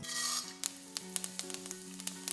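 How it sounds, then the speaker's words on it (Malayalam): A tablespoon of urad dal hits hot oil on a low flame for lemon rice, with a brief burst of sizzling followed by a string of sharp crackling pops, close by and quiet, with no talking. "ആദ്യമായിട്ട് ഉഴുന്ന് ഒരു ടേബിൾ സ്പൂൺ"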